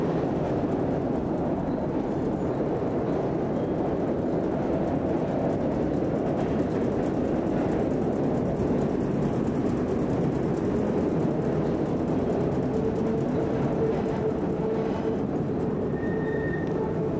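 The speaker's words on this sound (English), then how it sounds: "Oh, there's that train." A steady, heavy rumble of a train rolling past, continuous and fairly loud throughout with no voices.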